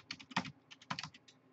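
Quick keystrokes on a computer keyboard, a short run of close, crisp taps in two small clusters with brief pauses, alone and fairly quiet.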